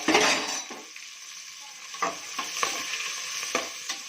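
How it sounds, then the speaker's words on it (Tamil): Onion and green chilli sauté in a pan of oil with fennel seeds, a close, bright sizzle with the scrape and clack of a spoon stirring at irregular intervals. "பெருஞ்சீரகம் போட்டு பொரிஞ்சதும் வந்து வெங்காயம் பச்சை மிளகாய் போட்டுக்கணும்."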